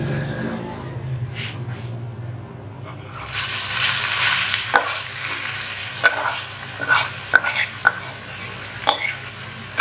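Ash gourd stir-fried with fried onions in a pan for a side dish, starting with a quiet sizzle before loud frying bursts in, then repeated scraping and clinking of a spatula stirring the pieces against the pan.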